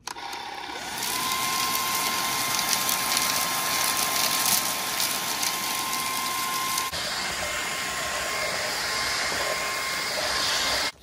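A cheap cyclonic handheld vacuum cleaner runs steadily with a high motor whine and broadband airflow hiss, starting after a second and holding loud and close, shifting in pitch partway through.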